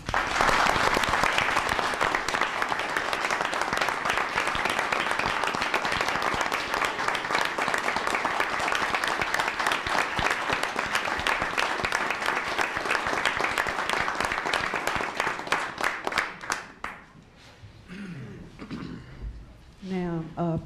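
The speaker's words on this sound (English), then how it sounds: "Could we please give them a round of applause?" At a board meeting, the audience gives honorees a long round of applause, thick steady clapping that carries for about sixteen seconds before thinning out and fading, with voices taking over at the end.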